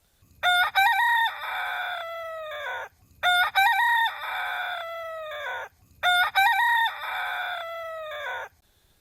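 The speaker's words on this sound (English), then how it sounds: "Look, the rooster's right here." A rooster crows three times in a row, each loud, close cock-a-doodle-doo call rising and then trailing off, with short quiet gaps between them.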